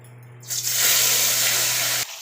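Rohu fish pieces slid into hot oil set off a loud, dense hissing sizzle that swells quickly, holds for about a second and a half, then cuts off abruptly over a low steady hum.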